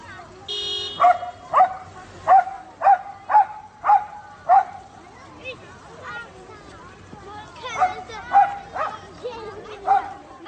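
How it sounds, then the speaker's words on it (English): A dog in Georgia barks at passing traffic, giving two runs of sharp, evenly spaced barks, about six in the first burst and five in the second, over a low rumble of street noise. "This dog is a local celebrity in Georgia because it always barks at traffic when children need to cross the street."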